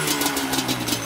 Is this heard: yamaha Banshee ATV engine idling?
yes